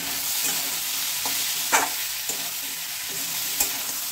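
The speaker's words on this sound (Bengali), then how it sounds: "এবার এই মশলাটাকে এই মাছের মুড়ো এবং আলুর সঙ্গে ভালো করে কষিয়ে নেব।" Spiced masala with turmeric and coriander-cumin powder being sautéed with a rohu fish head and potatoes in a pan, with a steady sizzle and occasional scraping stirs and clinks throughout. Jackfruit seeds also go into the dish.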